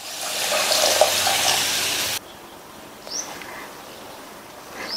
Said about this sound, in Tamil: இது கூட 1 டம்ளர் அளவுக்கு தண்ணி.